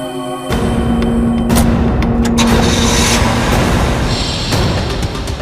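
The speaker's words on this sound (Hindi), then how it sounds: "ये गाड़ी चल रही है" A car engine idles and runs steadily, a continuous low rumble near at hand with a brief louder surge early on, on a roadside between New Talkies and Jalvihar Cottage.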